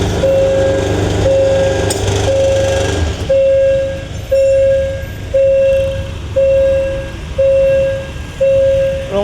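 A freight train hauling stone rolls past a railway level crossing in Thailand, its wheels beating a steady, loud rhythmic clatter over rail joints roughly once per second, with a continuous rumbling drone underneath and no talking.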